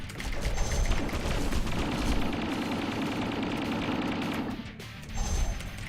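Rapid gunshots in the platformer fangame Kamilia 2, a dense continuous rattle of shots with a brief pause near the end before firing resumes, no talking.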